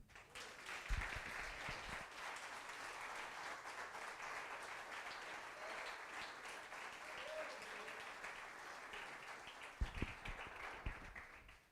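A church congregation applauding during a worship service, a steady wash of clapping lasting throughout with a few louder low thumps near the start and end, fairly distant and even in level.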